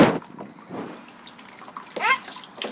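Water runs from a tap into a child's cup in short splashy bursts at close range, with a brief gurgling rise near the end. Background sounds drift in around it.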